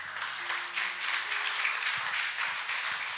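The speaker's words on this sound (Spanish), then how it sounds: "Denle un aplauso al Señor, hermano." Congregation applauding during a Spanish-language church service, a steady wash of many hands clapping throughout, moderately loud and without speech.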